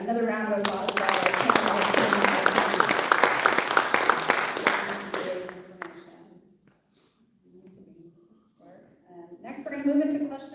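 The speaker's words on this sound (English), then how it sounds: "Another round of applause" Community coalition audience gives a round of applause, a thick burst of clapping lasting about five seconds before fading into a quiet pause and a speaking voice.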